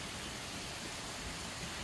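Steady, broadband rush of falling water, constant and unbroken, from a waterfall along the Appalachian Trail in Virginia heard from a short distance, with no voices.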